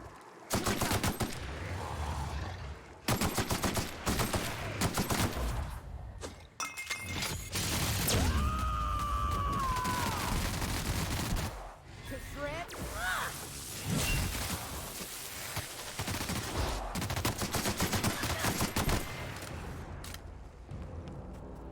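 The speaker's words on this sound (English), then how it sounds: "There's a heavy machine gun." Heavy machine gun fire in the video game The Outer Worlds, long loud automatic bursts mixed with shattering, breaking debris and clinks in a chaotic fight, with occasional talking over the combat.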